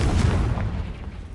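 Confringo blasting spell exploding in Hogwarts Legacy, a loud, dense, rumbling boom that fills the moment and decays slowly, with no voices.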